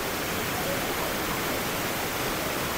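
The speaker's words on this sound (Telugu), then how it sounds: "ఇప్పుడు వాటర్ ఫాల్స్ దగ్గరికి వచ్చాం" Waterfall at Plitvice Lakes in Croatia, cascading over limestone formations, heard as a steady, loud, broadband roar of falling water throughout with no break.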